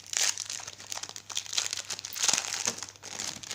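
Crinkly plastic packaging being unwrapped from a scented decorative macaron, a continuous close rustling and crackling with no talking.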